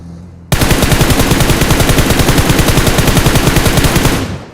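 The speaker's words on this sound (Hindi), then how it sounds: "तभी सामने की तरफ से फायर आया" Loud, rapid automatic gunfire from enemies on a hill in the BGMI battle royale game rattles in a sustained burst of evenly spaced shots, close and dominant, trailing off at the end.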